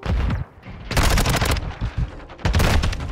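Gunfire in Modern Warfare 2 ranked multiplayer, with heavy automatic bursts close and loud, broken by a short lull and then a second sustained volley.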